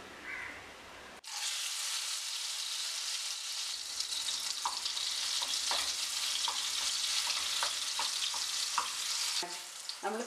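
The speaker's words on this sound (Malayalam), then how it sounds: "അത് ഈ നെയ്യിലിട്ട് നല്ലതുപോലെ ഒന്ന് വരട്ടിയെടുക്കണം." Boiled plantain pieces sauté in ghee with a steady, bright sizzle that starts abruptly after a quiet moment, broken by small scraping stirs and pops and with no talk.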